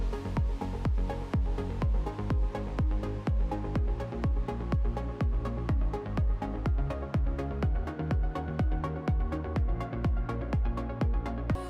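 A melodic house remix plays as a full mix, with a steady four-on-the-floor kick driving dense layered synths and bass at an even, fairly quiet level, with no talk.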